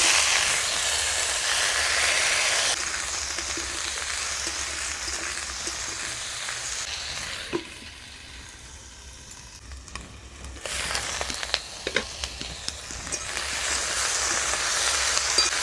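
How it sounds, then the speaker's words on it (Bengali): Potato, eggplant and pumpkin flower stalks frying in oil, left over from frying mourala fish, make a continuous sizzling hiss that drops quieter midway, then returns with scattered small pops and crackles. "ওই তেলে আলু বেগুন আর ফুলের ডাঁটাগুলো ভেজে নেব।"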